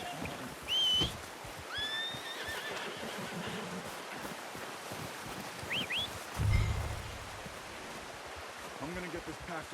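A horse in the Red Dead Redemption video game whinnies several times at moderate distance, its calls rising over a steady outdoor wash of ambient noise with a faint low thump.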